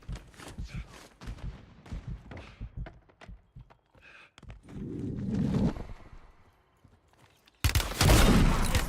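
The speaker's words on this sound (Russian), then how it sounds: "Стреляю." Gunfire in the shooter game Warzone 3: scattered thumping shots and rattles at first, then a louder sustained burst of rapid fire near the end, with a voice briefly heard in the quieter stretch.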